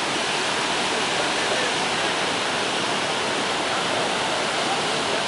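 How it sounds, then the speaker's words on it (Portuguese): Floodwater rushes during a flood in Itumbiara, a dense, steady roar of moving water that fills the whole stretch without letting up, loud and close, with no talk. "Olha o mundo de água"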